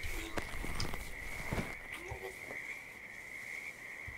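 Frog croaking in Hitman 2, a few distinct croaks over a steady high insect-like drone in a quiet outdoor game ambience.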